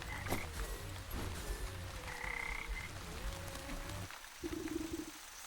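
Frog croaking in the video game Wytchwood, a steady low rhythmic croak over a murky bog ambience, with brief higher tones and bubbly gurgles throughout.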